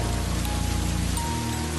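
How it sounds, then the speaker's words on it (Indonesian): Heavy rain pours down in a steady, dense roar of drops striking surfaces, continuous and loud throughout with no voices. "saat itu hujan turun lebat."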